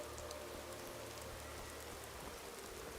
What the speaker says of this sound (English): Splashes of rain or splashes of storms or whatever it is.